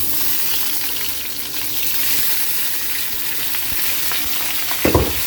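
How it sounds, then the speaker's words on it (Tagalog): Pork frying with sautéed onions for pineapple pork adobo: a steady, close sizzle runs throughout, with a few louder stirring scrapes and a brief splashing surge near the end. "lagay na natin yung pork."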